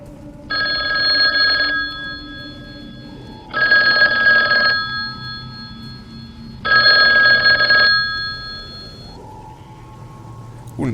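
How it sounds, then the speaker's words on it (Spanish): A telephone rings in three long electronic trills separated by pauses, fairly loud over a low background rumble, with no talking. "Una llamada entró en el teléfono de Camarena"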